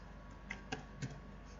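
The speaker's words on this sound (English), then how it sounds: "I'm typing here on Google" Soft keystrokes tap on a computer keyboard, three or four scattered clicks against a quiet background hum.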